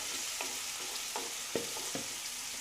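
Chopped onion frying in a pan for a Bengali aloo matar, a steady close hiss with several sharp scraping stirs spaced through it.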